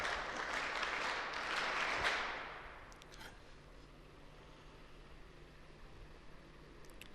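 An audience at a Brahma Kumaris talk at an NSS camp claps for a participant, a dense burst of applause that fades out after about two seconds, leaving quiet room tone.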